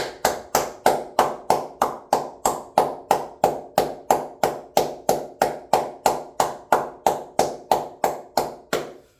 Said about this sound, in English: Round of applause to Jason Sanders.